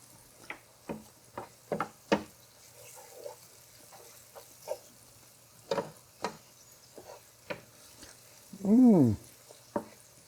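Onions frying in a pan as turmeric is added for Persian split pea rice, with scattered clicks and scrapes of stirring over a faint sizzle and one louder burst of sizzling near the end, close and without talk.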